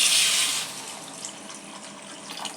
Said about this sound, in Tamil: இப்போ கொஞ்சம் தண்ணி சேர்த்துக்கலாங்க.